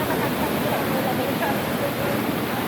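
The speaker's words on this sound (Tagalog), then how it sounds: "Tubig." Steady, dense roar of falling water at Taytay Falls, close and loud, filling the whole stretch without a break.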